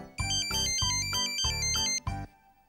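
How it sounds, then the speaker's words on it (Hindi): A mobile phone ringtone plays loudly in a repeating electronic melody, several bright tonal phrases over about two seconds before cutting off, with no voices over it. "तुम्हारा ही फोन होगा।"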